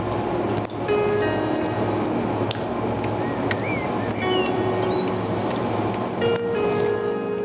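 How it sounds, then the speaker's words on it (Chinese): Water drips from leaking pipes and concrete in a nearly 40-year-old underground tunnel beneath a toll station, with scattered drops and small splashes echoing over a steady hiss of ambient noise. "滴滴答答的水声悠悠回荡在空气中"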